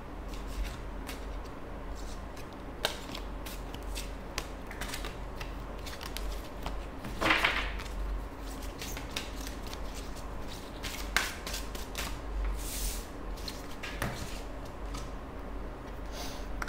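Tarot cards being shuffled during a reading, a steady stream of soft, close riffling and flicking clicks with occasional sharper snaps, quiet and without talk.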